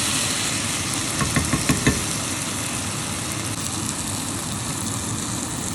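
Prawn biryani mixture stirred and frying in oil in a pan, a steady close sizzle running throughout with a few brief scraping clinks of the spoon near the start.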